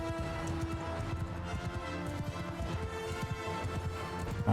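Cavalry horses galloping in battle in Mount & Blade II: Bannerlord, a dense, continuous drumming of many hooves up close with a steady rumbling rhythm, alone without voices.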